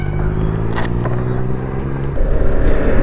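A BMW G310 GS motorcycle drones steadily while riding on the road toward DD Hills, its engine tone holding constant before shifting to a rougher, louder pitch as it changes speed, with no talking.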